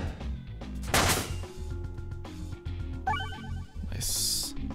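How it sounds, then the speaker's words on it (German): A bomb blows up in the video game Peglin: a loud broadband burst with a rumbling tail, followed by further crackling game effects and a bright high chime, all set against steady game music. "Oh, noch eine Bombe extra."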